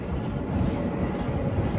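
A small amusement park ride train rumbles steadily along its track, a continuous close mechanical rolling noise with no voices.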